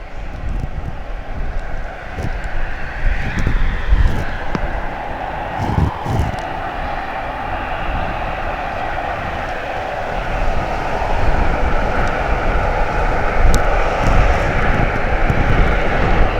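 A fixed-wing aircraft engine roars steadily at East Midlands Airport, a broad loud rumble that holds and swells over the whole stretch. Wind buffets the microphone now and then.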